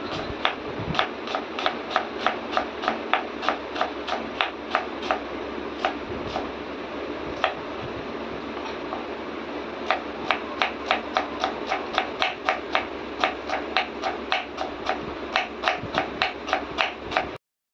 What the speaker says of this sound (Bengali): এই জন্য এখানে পেঁয়াজ কাটিং চলছে, বিরিয়ানির প্রস্তুতি হচ্ছে।